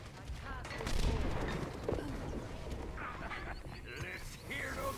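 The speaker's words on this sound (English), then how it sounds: "Let's hear those guns." Gunfire in the video game Overwatch, dense rapid shots and impacts layered over game effects, with character voice lines heard among them.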